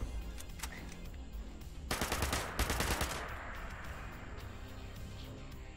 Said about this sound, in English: Turret shooting at you? Oh god, there's a turret.